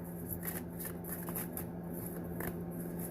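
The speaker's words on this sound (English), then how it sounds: "I'm taking one card, Spirit." Tarot cards shuffle with a soft, continuous riffling and sliding, faint and close, under a low steady hum.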